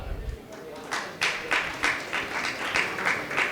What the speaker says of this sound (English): Let us not let the applause fade away as we welcome more leaders